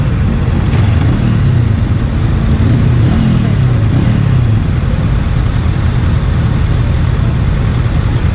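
A warm Honda motorcycle engine idles at about 1,200 RPM, making a loud, close, low throb with a slight rise and fall partway through before settling back into an even rumble.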